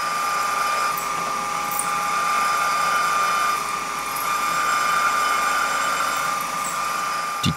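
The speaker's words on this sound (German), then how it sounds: "In aller Ruhe werden hier auch die nötigen Löcher gebohrt." A steady, whining drill runs continuously and fairly loud, with a high mechanical tone and faint clicks, boring holes through a turntable base without pause.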